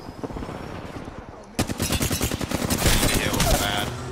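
Rapid automatic gunfire from a shooter firing through stairs in Apex Legends: quieter scattered shots at first, then a sudden loud, sustained stream of close, fast shots that intensifies toward the end.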